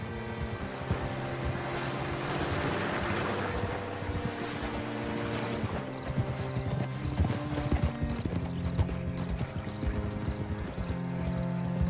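Steady hoof clip-clop from a horse moving at an easy pace in a video game, over a continuous bed of music and ambient sound.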